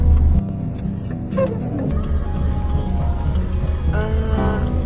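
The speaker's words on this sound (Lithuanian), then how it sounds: "Važiuoja policija link mūsų." Police car in Ukraine at night during a power outage, driving toward the listener: a steady engine rumble and road noise that stays fairly close, with no talk.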